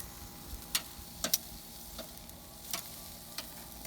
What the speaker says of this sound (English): just so I can sear both sides